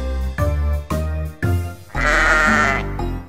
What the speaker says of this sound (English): A sheep is in the barn, a sheep is in the barn.